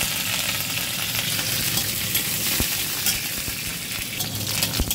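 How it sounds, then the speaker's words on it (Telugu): Curry leaves, mustard seeds, urad dal and cumin frying in hot oil for a mushroom and mixed vegetable curry, a loud, dense, continuous sizzle and crackle with scattered pops, close up and without speech. "కరివేపాకు వేగిందండి."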